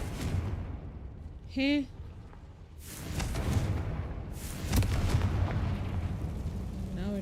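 In Hogwarts Legacy, a Confringo spell lets out a pair of deep, rumbling explosive blasts, with a brief tonal game cue and a short spoken word from a player.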